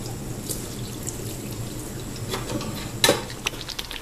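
Water from a kitchen tap runs steadily into a sink while dishes are washed, a soft continuous trickle with occasional clinks and splashes, louder near the end.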